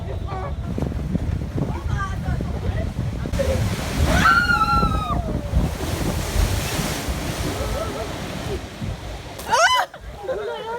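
A water ride at Parc Astérix in France sends a heavy splash of water over the riders, a broad rushing wash of spray and wind noise while people shout and squeal over it.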